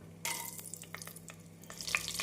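Oil sizzles in a pan as cashews fry, a bright crackling hiss with occasional stirring scrapes, close and steady.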